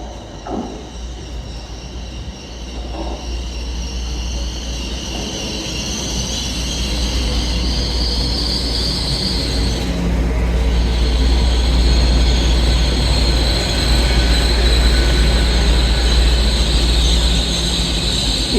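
A long train bound for London Paddington rumbles past steadily, a low continuous roar with a rising hiss of wheels on rails, growing louder and holding through the end.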